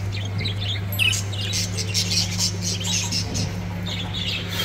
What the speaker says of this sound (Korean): 진짜 호주에 날아다니는 앵무새들인 것 같아요